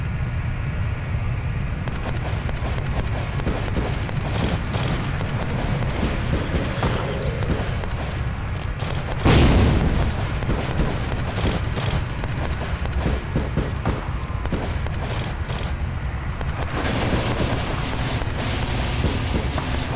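Explosion in the vampire action game Bloodlines: a single loud boom bursts out near the middle, over a dense, continuous bed of game ambience and gunfire-like crackle.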